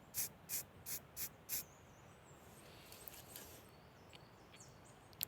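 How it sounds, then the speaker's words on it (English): Five short, sharp hissing bursts of brown spray paint hit a cheap leaf suit in quick succession, followed by quiet outdoor ambience with faint birdsong. "we're going to use our brown spray paint here and get quite far away from it and"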